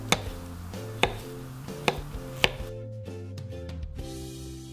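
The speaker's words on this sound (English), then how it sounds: "now I will slice beets" A knife slices through peeled cooked beets on a cutting board in a series of regular sharp taps, about one each half second, against quiet background music.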